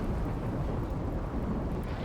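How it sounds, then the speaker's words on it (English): Thunderstorm in the video game RimWorld: a continuous, dense rumble of thunder and rain, steady and fairly loud throughout, with no voices. "Lots of thunderstorms."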